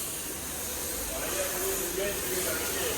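A pressure washer spraying water onto the carpet of a Mercedes W124, a steady close hiss with no break, while voices talk faintly under it.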